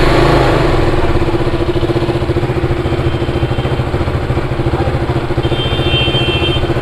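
A KTM Duke 200 motorcycle engine turns over and settles into a loud, steady idle after an engine rebuild, its rapid regular thumping pulse continuing close by with no talking.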